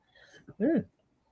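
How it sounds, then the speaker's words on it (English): One short, throaty burp stands out clearly at close range, preceded by a faint breathy sound, with quiet before and after. "I just burped, sorry."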